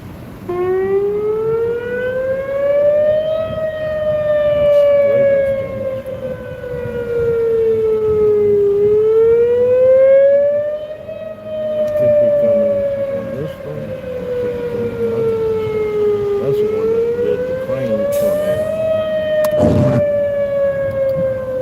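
Civil defense tornado sirens wail across Jackson County, Indiana, rising and falling in long, slow sweeps that last the whole stretch, loud and steady with a brief burst of other noise near the end.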